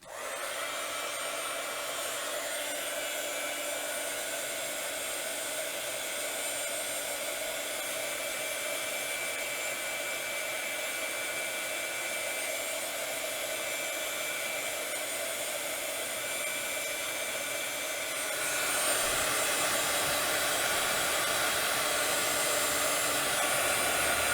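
A hair dryer blowing steadily to dry mixed media ephemera, a constant close whooshing hum that grows louder and brighter near the end, with no talking.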